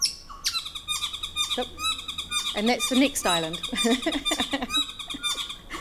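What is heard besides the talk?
recorded chattery birdsong dialect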